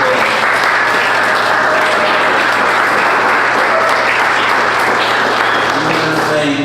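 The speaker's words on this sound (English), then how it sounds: "First of all, give them a round of applause." A large audience applauds panelists at a blockchain and cryptocurrency panel event, dense sustained clapping filling the room loudly and evenly throughout with no speech over it.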